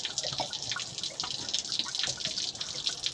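Water trickles and drips from a hose pulled off the reservoir of a classic square-body VW Gol during carburetor manifold removal, a steady light splashing, close and faint, with no talk.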